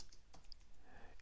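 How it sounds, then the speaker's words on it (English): Brief, faint patter of computer keyboard keys typing into a Microsoft Word table, a few soft clicks over low background noise. "you can just type in any of these cells"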